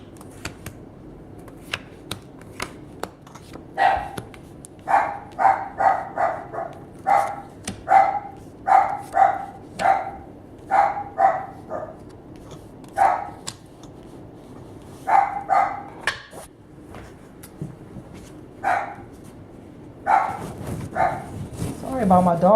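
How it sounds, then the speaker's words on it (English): A dog barks repeatedly indoors in steady bursts of two or three sharp barks, fairly close and loud, with a pause midway before the barking resumes. "Sorry about my dog. I don't know what he's barking at."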